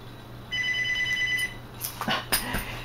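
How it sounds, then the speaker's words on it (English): A telephone rings in a home, a bright electronic trill repeating in short bursts for about a second, followed by clattering handling noises close by. "There's the phone."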